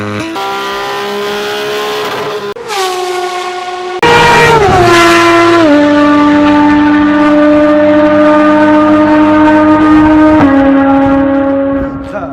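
A naturally aspirated Porsche engine wails at full throttle, loud and close, climbing through the revs with sharp gear changes and a brief lift before pulling hard again to the end; no talking.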